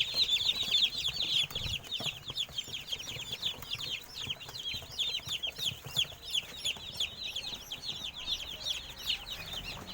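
Young chicks cheeping in a dense, continuous chorus under a brooder light, with rapid overlapping high peeps filling the whole stretch at close range.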